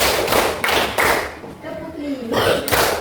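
A class of students clapping together in a counted rhythm, several broad group claps spaced about half a second apart, fairly close and loud, with voices mixed among them.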